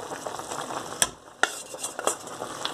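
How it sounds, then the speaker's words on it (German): A spoon stirs flour into a pot of carrot stew, a soft scraping swirl with a few sharp clinks against the pot, close and fairly quiet. "Und dann wird sofort gerührt."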